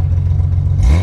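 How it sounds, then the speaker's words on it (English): The L28 engine of a 1978 Datsun 280Z idles with a low, steady rumble, then gives a short rev that rises in pitch near the end of the brief, close-up burst. "Go ahead and rev it up just a little bit."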